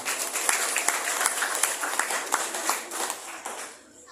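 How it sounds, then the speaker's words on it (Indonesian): Steady applause from a crowd, many hands clapping continuously before fading out near the end. "Tepuk tangan kepada Mama."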